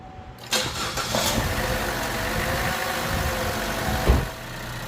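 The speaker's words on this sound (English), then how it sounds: "Let's go start the engine." A car engine cranks and catches after battery work, then settles into a steady idle with a louder surge near the end, close and continuous with no speech.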